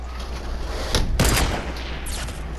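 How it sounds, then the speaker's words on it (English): A couple of sharp sniper rifle shots in a Fortnite battle royale match ring out loud and close, one crack followed by a heavier blast with a short echoing tail. "I sniped the elite agent for a body shot"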